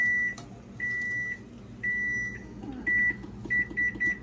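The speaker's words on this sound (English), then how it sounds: "I'm setting the timer for 5 minutes" A series of short electronic beeps, several spaced apart then a quick run of three, from a kitchen appliance over a low hum.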